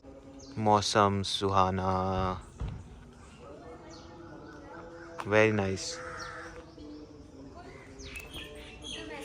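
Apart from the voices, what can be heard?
birds chirping outdoors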